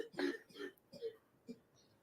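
A baby boy coughs and clears his throat in a few short, soft bursts spread over about two seconds, close by and fairly quiet.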